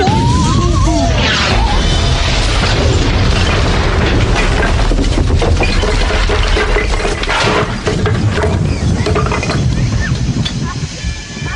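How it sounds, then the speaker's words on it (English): A loud, sustained cannon boom and rumbling blast fill the scene, with crashing debris and shouting voices mixed in throughout. "What an explosion!"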